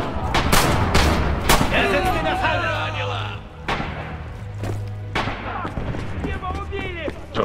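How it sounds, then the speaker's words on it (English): Numerous grenade explosions go off in quick succession during an online Red Orchestra 2 battle, loud bursts and thumps mixed with gunfire while players talk over the chaos. "that's a lot of nades"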